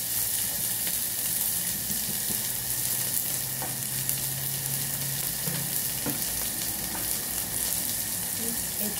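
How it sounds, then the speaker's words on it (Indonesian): Spices sizzle and crackle in hot oil, a steady frying hiss with occasional stirring clinks. Faint background sounds sit beneath it. "Sekarang minyaknya sudah panas, kita masukkan semua bumbu-bumbunya."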